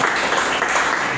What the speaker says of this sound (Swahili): wapigwe makofi